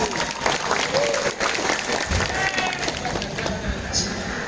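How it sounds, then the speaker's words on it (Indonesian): Steady applause from a crowd of event participants at a national coordination meeting, continuous and fairly loud across the whole stretch with faint voices mixed in. "Tepuk tangan."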